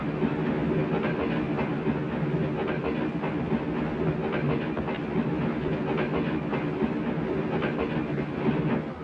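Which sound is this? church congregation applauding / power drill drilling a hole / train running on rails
train running on rails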